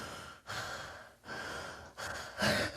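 A man imitates a child's open-mouth breathing during sleep, with a recessed jaw and a partly blocked airway. Three loud, raspy, gasping breaths come one after another with short pauses between them, and the last is the harshest.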